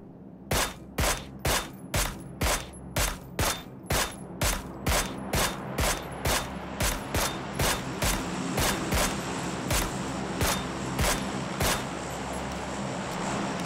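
Loud single gunshots in PUBG ring out one after another at a steady, slightly slowing pace, about two dozen sharp cracks over a vehicle-like rumbling background.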